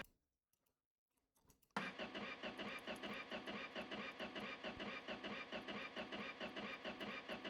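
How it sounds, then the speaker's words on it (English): A few faint clicks and rattles, then a car engine abruptly starts and settles into a loud, rough, pulsing idle close by. "I apologise if this is the loudest car. This car is too loud."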